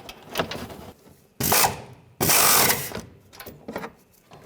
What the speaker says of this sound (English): Tighten this one down.